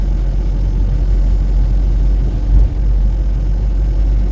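A car drives along a snowy road in fresh snowfall, its engine a steady low rumble close by, with a muffled bump partway through and no talking.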